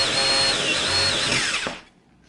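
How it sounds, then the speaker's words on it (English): A power drill whines loudly and steadily, its pitch wavering as it bites into wood, drilling an air hole into the bottom of a wooden pipe bowl, then winds down and stops. "you can drill that right into the bottom of the bowl"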